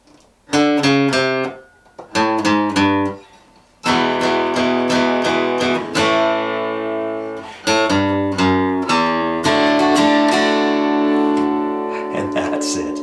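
Acoustic guitar strums a rhythm in bright, ringing chord bursts with short pauses between phrases, played solo and close.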